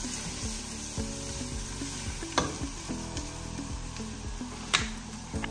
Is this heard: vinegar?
yes